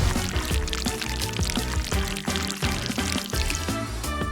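Water pours steadily as a rinse sound effect, a continuous splashing flow lasting about four seconds with no talking over it.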